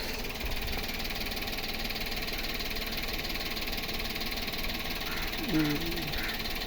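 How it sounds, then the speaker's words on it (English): A three-cylinder Perodua Axia engine idles steadily with a constant low rumble and faint mechanical rattle, heard from inside the cabin, close by and unchanging throughout. "Normal 3-cylinder engine noises."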